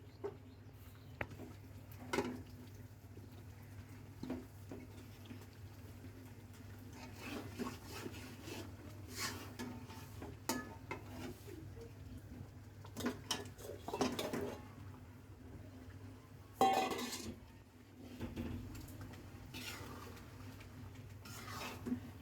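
Chicken pieces stirred into roast masala in a pan, with soft scraping and clinking of a utensil against metal at an irregular pace, close and fairly quiet over a steady low hum.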